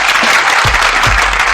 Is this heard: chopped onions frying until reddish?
no